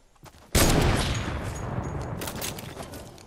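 A heavy sniper rifle in a video game fires one sudden, powerful shot up close, followed by a long rumbling boom that slowly fades.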